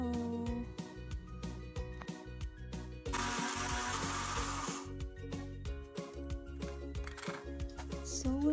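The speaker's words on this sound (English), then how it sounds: "Next, we are going to mash the squash using blender." An electric blender whirs in a single harsh burst of about two seconds as it mashes steamed squash for an ice cream mixture, set against steady background music.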